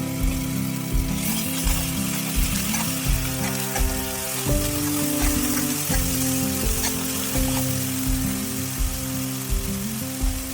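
Ginger garlic paste sizzles with onions frying in a pan for an Indian restaurant-style egg masala, a steady close crackle with faint clinks and stirring throughout.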